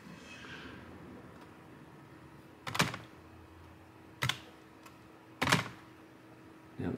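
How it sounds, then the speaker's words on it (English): A handful of separate key or button strikes on a computer keyboard, spaced apart and close to the microphone, sound over a quiet room hum while a command is entered in a Windows recovery command prompt. "from here, I'm gonna type in diskpart"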